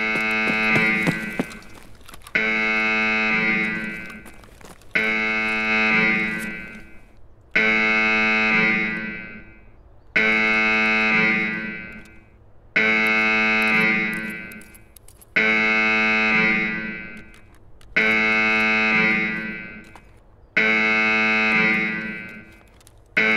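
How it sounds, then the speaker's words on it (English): Electronic alarm going off in repeated loud bursts, each a harmonic buzzing tone about two seconds long with brief gaps between, nine or so pulses in steady rhythm with no talking. "Sorry about the alarm."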